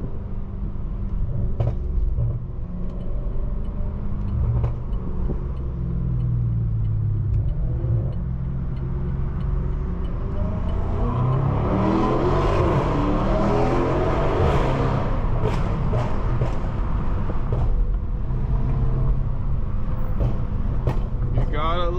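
BMW M550i with over 700 hp driving on the road, a steady low engine rumble with a swelling rev and acceleration midway through, people talking over it inside the car.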